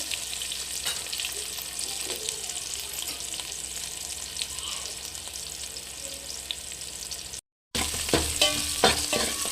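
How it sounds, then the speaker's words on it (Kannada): Onions fry in a pan for a vegetable sambar, giving a steady, soft sizzle with occasional stirring scrapes, then a brief dropout followed by a few sharper clinks and crackles. "ಈಗ ಈರುಳ್ಳಿ ಆಲ್ಮೋಸ್ಟ್ ಫ್ರೈ ಆಗೈತೆ"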